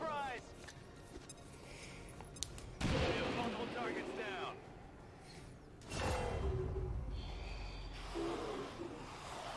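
Grenade blast and bursts of gunfire in the XCOM 2 video game, loud booming explosions with crackling shots and mechanical clatter, heard under a talking voice.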